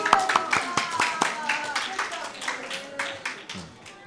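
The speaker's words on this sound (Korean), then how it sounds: "우리 박수." A small Sunday-school or church class claps for a child's correct answer, with sparse, uneven hand claps over several seconds and voices talking through them.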